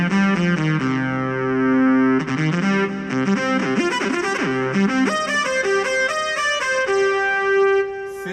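Roland AX keytar synthesizer playing its Synth lead 2 tone, a bright, buzzy distorted lead line with sustained notes and quick pitch bends, loud and continuous for several seconds with no voices.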